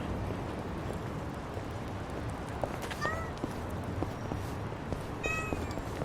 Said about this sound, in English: my kitty is meowing at me